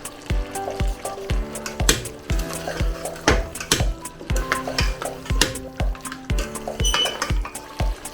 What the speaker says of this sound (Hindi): 5 से 7 मिनट में इसको भूनूंगी अच्छी तरह से, कि इसकी तरी ऊपर आ जाए और ज़रा कीमा अच्छी तरह भून जाए मसालों के साथ।